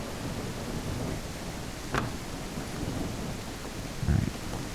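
Steady rain falls across a game world in Outbreak Island, an early-access survival horror game, with a single sharp crack of thunder near two seconds and a low rumbling boom toward the end, no talking.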